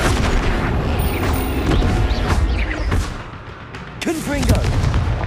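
In Hogwarts Legacy, a Flipendo knockback spell is cast during combat: a string of punchy, gunshot-like impacts and thumps among busy battle noise, followed by a brief whooshing, warbling burst near the end.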